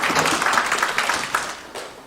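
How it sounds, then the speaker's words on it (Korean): An audience claps to welcome the presenter at a Korean research presentation on fire prevention for cold-storage warehouse construction, with a steady, dense round of applause throughout. "큰 박수로 맞이해 주시기 바라겠습니다"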